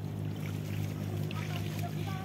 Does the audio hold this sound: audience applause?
no